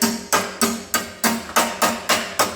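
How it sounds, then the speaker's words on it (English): A hammer taps bent sheet metal on a small smudge pot waste oil burner kit: about nine crisp, evenly spaced metallic strikes, close and loud, with no talking. "you can take a hammer"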